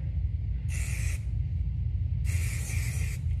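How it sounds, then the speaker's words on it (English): Hairspray from an aerosol can hisses onto hair in two short bursts, a brief one then a longer one, close and loud over a low background rumble. "So I'm gonna hairspray"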